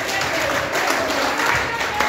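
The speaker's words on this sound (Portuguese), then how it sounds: "E bate umas palmas bem forte para o Senhor Jesus." A church congregation at a Sunday service in Nova Hartz, RS claps hands for Jesus, a dense, steady wash of clapping that carries on for about two seconds.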